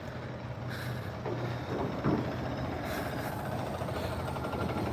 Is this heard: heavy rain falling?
no